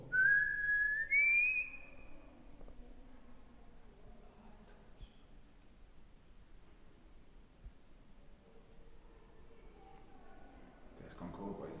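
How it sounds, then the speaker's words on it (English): A person whistles a short rising tune at the start, clear and close, inside the Drakelow Tunnels during a ghost hunt; afterwards only faint room noise and murmuring voices remain. "Can you copy this whistle?"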